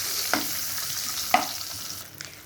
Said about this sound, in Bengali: আগে ডিমটাকে ভেজে নিয়ে একটু লাল লাল করে ভাজবো।